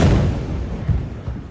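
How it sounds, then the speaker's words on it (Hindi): A kamikaze drone exploding on a street in Kharkiv, outside a play school, heard as a loud, deep blast. Its rumble rolls on and fades over about a second and a half. "बम की तरह फटने वाले ड्रोन के गिरते ही इतना जबरदस्त धमाका हुआ कि खार्किव का वो इलाका बुरी तरह दहल उठा।"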